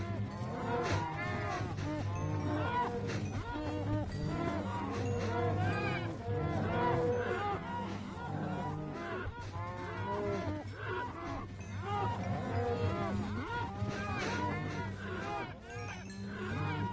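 A herd of cows in Minecraft Bedrock Edition moo continuously, with many overlapping calls forming a dense, steady din throughout.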